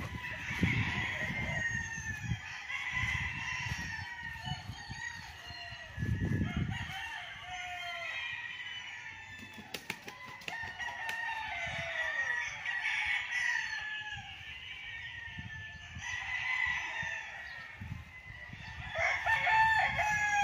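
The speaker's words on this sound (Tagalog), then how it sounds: "Ganda ng mga manok." Roosters crow repeatedly and chickens cluck on a farm lot in Liliw, Laguna, the crows rising and falling at moderate distance with clucking between them and no talk.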